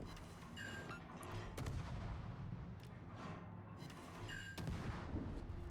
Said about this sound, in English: he is firing armor piercing at me